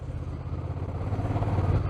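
Honda CMX1100 Rebel motorcycle cruising in sixth gear at under 40 mph, a steady low engine drone with a faint rhythmic pulse that swells slightly toward the end, heard from the rider's position.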